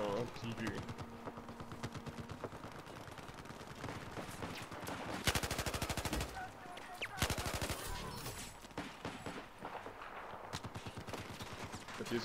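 Rapid bursts of machine gun fire ring out in the online shooter Battlefield 1, rattling quickly with brief pauses, fairly faint amid game effects.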